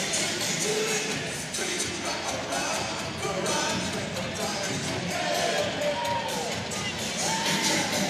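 Home crowd at a college gymnastics meet cheering and shouting continuously, a loud, steady roar with individual whoops and high-pitched yells rising above it throughout.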